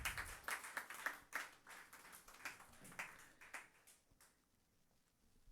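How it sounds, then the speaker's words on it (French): Faint applause at a Catholic mass during a novena, a crowd clapping briskly for a few seconds in a reverberant church before trailing off. "On applaudit Père Talleyrand."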